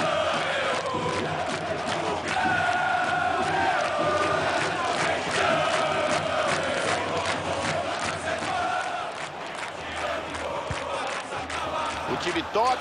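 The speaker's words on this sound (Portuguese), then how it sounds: "a torcida inflamada não se contém" A stadium crowd roars and chants in the football video game FIFA 23, during a Brazilian Série B match with the home side winning late. The dense, sustained cheering stays loud throughout, with faint talk mixed underneath.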